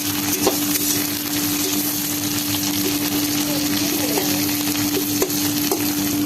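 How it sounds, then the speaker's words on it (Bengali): Tomatoes added to onions already fried red in oil for a Bengali-style rui fish curry, giving a steady close sizzle with occasional stirring scrapes and a faint background hum. "পেঁয়াজটা লাল করে ভেজে নিয়েছি। এবার টমেটো গুলো দিয়ে দেবো।"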